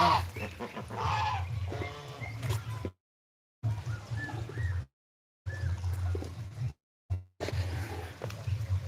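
Ducks quack and honk in scattered calls amid a noisy outdoor crowd, with brief silent gaps between stretches.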